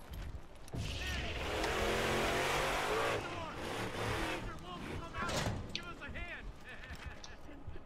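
A car drives in Borderlands, its engine revving loudly and rising in pitch, then easing and passing, with gameplay sounds continuing around it.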